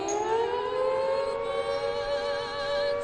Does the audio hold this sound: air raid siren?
yes